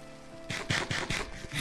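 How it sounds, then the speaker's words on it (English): Rain in the Minecraft game, a steady broadband hiss with a series of soft pattering bursts at a moderate level and no voices. "It's raining."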